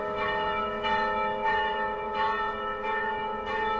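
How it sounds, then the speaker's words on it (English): Church bells ring on a Sunday morning, a run of sustained, overlapping chimes with rich ringing overtones, struck roughly every two-thirds of a second, with no voices. "One Sunday morning I heard church bells in the distance, faint, far away"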